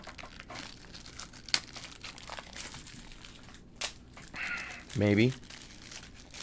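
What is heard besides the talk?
tape being peeled off a model base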